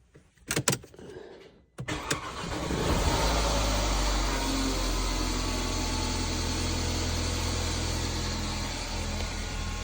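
Mercedes A180 W176 with an M270 engine, recently fitted with a new thermostat housing, cranks briefly after a few clicks, fires up, then settles into a steady, smooth idle close by.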